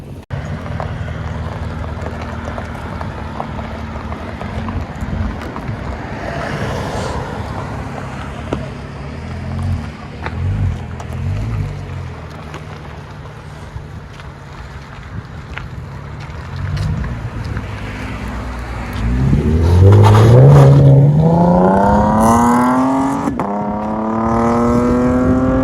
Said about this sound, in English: MAGNAFLOW gives it a really nice deep tone